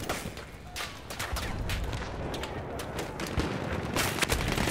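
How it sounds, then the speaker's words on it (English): Grenade explosions and rattling gunfire in the video game Battlefield 1, a dense, continuous roar of bursts and booms that overlap without pause, loud and close. "they're throwing grenades on top of me."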